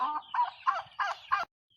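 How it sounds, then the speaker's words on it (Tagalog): Turkeys gobble and chatter in five quick, close bursts, one after another, then fall quiet. "Mga inahing pabo ito."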